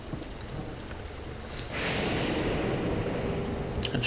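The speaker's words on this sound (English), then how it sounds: "It sure does rain a lot in Akala." Steady rain in the Akkala region of Zelda: Breath of the Wild, swelling to a heavy broadband downpour after a quieter patter, with a distant rumble of thunder beneath the hiss.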